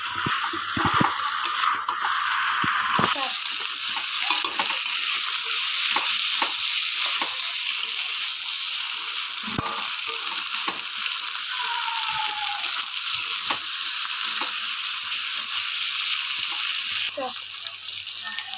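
Fried fish heads sizzle steadily in hot oil in a pan for mung dal, a loud continuous frying hiss with occasional stirring scrapes throughout.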